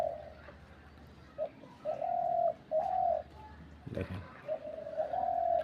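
Outside a house, a pigeon or dove coos in a repeated soft rhythm, close and moderate, with someone briefly speaking partway through.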